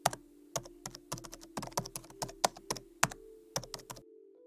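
Quick clicking keystrokes on a computer keyboard, close and fairly quiet, about two dozen taps in an uneven rhythm over a faint steady hum, with no talking.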